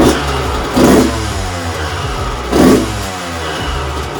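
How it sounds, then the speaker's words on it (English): A 2001 Honda CR125 two-stroke dirt bike, just rebuilt, runs loud and close on its first start. It holds a buzzy idle broken by two short throttle blips, with no talking. "there's the first start. Starting to idle down here a little bit"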